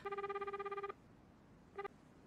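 A telephone rings in a quick electronic trill, one long burst followed after a pause by a short second burst, clear and fairly faint in a quiet room.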